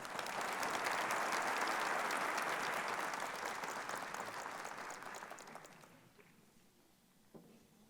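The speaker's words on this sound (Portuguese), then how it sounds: "Podemos aclamar a palavra do Senhor com uma salva de palmas." A congregation at a Catholic Mass breaks into sustained applause, a dense wash of clapping from many hands that holds steady for several seconds and then fades away.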